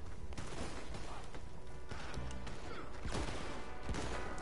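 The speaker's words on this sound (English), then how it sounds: "Me and him are having a shotgun battle" Shotgun fire in the Western game Red Dead Redemption 2, several booming blasts scattered through a dense, noisy gunfight din.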